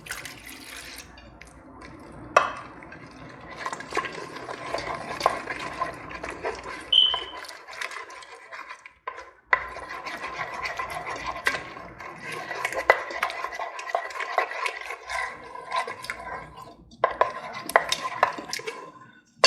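Watery whole wheat pizza dough being stirred in a bowl, a steady wet sloshing and scraping that runs almost continuously with a couple of brief pauses.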